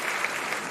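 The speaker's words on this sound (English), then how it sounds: "I've got to get my round of applause ready" A crowd at a comedy evening gives a warm welcoming round of applause, a continuous dense patter of many hands clapping at even loudness throughout the short burst.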